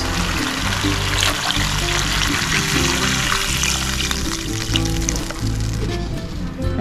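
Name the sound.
water poured into cooking pot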